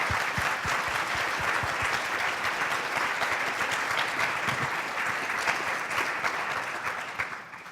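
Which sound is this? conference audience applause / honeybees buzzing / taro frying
conference audience applause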